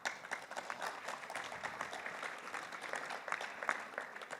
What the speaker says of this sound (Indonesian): Mohon kita tepuk tangan untuk beliau.